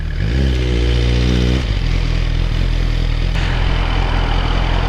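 A 2023 Suzuki GSX-R 1000 fitted with a Yoshimura exhaust idles close by, a brief rising rev then settling into a steady low rumble as the bike is turned around.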